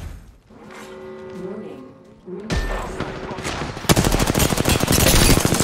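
Rapid gunfire from the video game Apex Legends, loud bursts of automatic fire building to a dense, continuous volley near the end, with game sounds and a brief tone before it.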